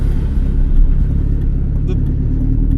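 Deep, rumbling exhaust of a BMW E36 drones steadily as the car drives, a loud low growl with brief swells, and a voice speaking over it.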